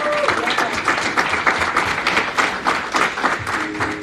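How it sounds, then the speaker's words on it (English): Dense applause from a breakout-session audience in Anaheim, California, sustained and fairly loud across the whole stretch, with a faint voice threading through near the start. "let's just give a round of applause to our speaker"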